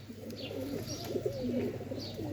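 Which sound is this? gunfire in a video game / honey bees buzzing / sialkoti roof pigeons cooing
sialkoti roof pigeons cooing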